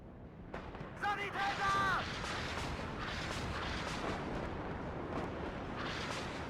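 An artillery salvo fires in the WARNO video game: dense, rumbling booms and blasts roll on continuously, with a few short electronic chirps early on and voices talking over the barrage.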